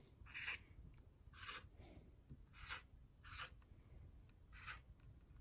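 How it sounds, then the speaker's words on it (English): A pen tapping dots of bright yellow onto a paper envelope, faint close-up scratchy ticks in short clusters, five bursts spaced about a second apart over a quiet background. "Can hear the sound effects of the pen on paper."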